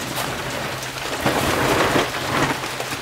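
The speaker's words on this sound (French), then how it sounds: "Bah voilà, il pleut." Steady rain pours down, a dense hiss of drops on a surface that swells briefly, heard close with no voices.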